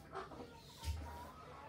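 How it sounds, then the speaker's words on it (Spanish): Rooster crowing at dawn, a short crow rising briefly out of a dim rural background during coffee roasting on a comal, fairly faint and distant. "ya hasta los gallos están cantando"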